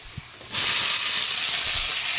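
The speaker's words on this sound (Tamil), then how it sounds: "இப்போ வந்து தக்காளி மட்டும் போட்டுக்கலாம்." Tomatoes dropped into a hot pan of oil for prawn thokku burst into a loud, steady sizzle after a quiet start, hissing close up and continuing unbroken to the end.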